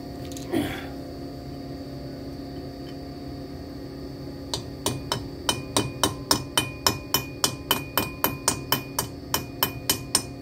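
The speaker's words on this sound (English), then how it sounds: "Now I gotta get a hammer." A hammer strikes the wheel bearing of a 2007 Impala. There is one knock early on, then about twenty sharp metallic blows land in a steady, quickening rhythm close by over a low background hum.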